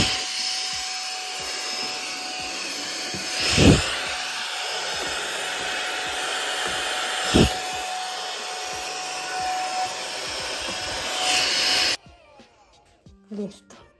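A vacuum cleaner runs continuously with a steady whine for several seconds in a bathroom, bumped and rubbed against surfaces, then switches off and the room goes quiet.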